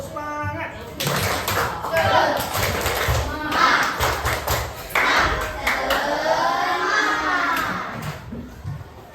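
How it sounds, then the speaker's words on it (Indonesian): Children performing a rhythmic spirit clap in a classroom, sharp claps in quick patterned bursts mixed with loud chanting voices and shouts, with a teacher's voice at the start. "Sebelum mulai kita tepuk semangat."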